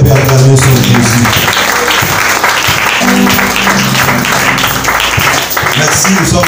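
Church congregation applauding and cheering at a French-language service, steady loud clapping and voices filling the room throughout, with talk mixed in.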